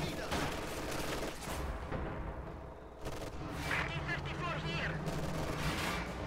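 Heavy machine gun fire in a World War II strategy video game, bursts of rattling shots amid battle noise, partly under a radio-style voice speaking.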